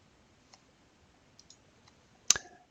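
Mouse clicks opening a comment in a spreadsheet: a few faint soft ticks, then one sharper, louder click near the end, in an otherwise quiet room.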